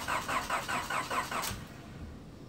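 Honda B18C Type R engine with a ported head, struggling just after start-up with a rhythmic chugging, uneven idle that fades into a steadier hum, close by and without talk.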